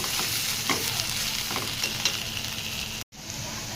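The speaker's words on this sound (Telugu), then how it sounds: "క్యాబేజీని ఇలా ఫ్రై చేసుకోవాలన్నమాట" Shredded cabbage frying in a pan gives a continuous close sizzle with repeated scraping stirs, ending in a brief dropout, and no one speaks.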